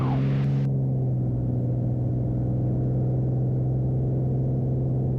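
Light aircraft engine at full power during a missed approach in cloud, a steady, loud, droning hum held throughout.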